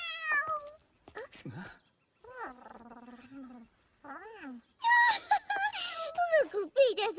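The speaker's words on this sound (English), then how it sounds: "A kitty cat!" An animated cat meows several times, with high, wavering, drawn-out calls, some short and some wailing. The meows are close and loud and come in bursts with brief silences between them.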